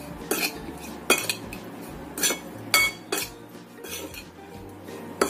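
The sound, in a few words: stirring seasoning into food in bowl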